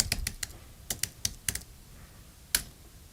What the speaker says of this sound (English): I will type it in here just because